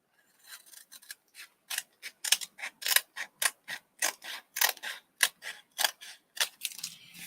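Scissors trim a paper craft in rapid, rhythmic snips, about two dozen close, crisp cuts in quick succession with short pauses between them.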